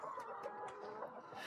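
Chickens cluck steadily at a Korean hillside farm housing around three thousand birds, a dense, continuous flock chatter with scattered sharper calls, moderately close and with no talk over it.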